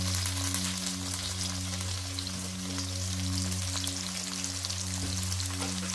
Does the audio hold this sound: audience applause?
no